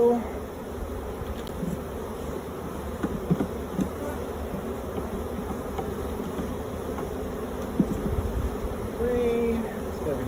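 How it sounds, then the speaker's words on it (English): Honey bees buzz steadily around an open hive during an even split, a dense continuous drone close by with occasional louder passes of individual bees and faint handling noises throughout. "Just gotta be careful because I do have bees coming up."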